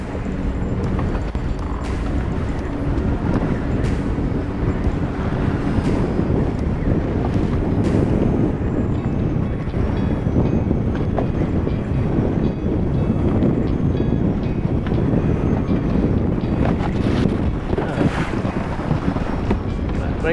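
Strong, steady wind roars across a fishing boat on Lake Sakakawea, buffeting the microphone with a loud, constant rumble and rushing gusts, alongside faint lapping water, with no voices.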